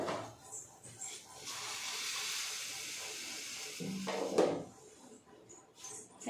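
Cooking oil heating in a hot pan on the stove: a steady, soft hiss lasts several seconds, broken by a brief louder clatter midway.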